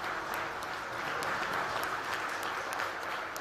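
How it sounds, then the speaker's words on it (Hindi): Audience applause at an honours ceremony in Udaipur, a dense, even wash of many hands clapping throughout, steady and moderately loud with no talk over it. "आप लोगों को ताली बजाने के"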